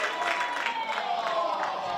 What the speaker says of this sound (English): I heard a cheer